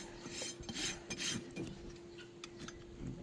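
A rasp files and shapes a broken, long-neglected horse's hoof in repeated rough scraping strokes, close but fairly quiet, with a steady faint hum underneath.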